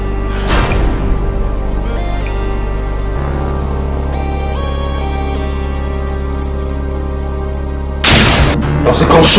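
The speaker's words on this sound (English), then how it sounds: "That's a gunshot!" A gunshot rings out in a tense dramatic scene. There is a sharp burst near the start and a louder, booming blast near the end, with a sustained musical score droning underneath.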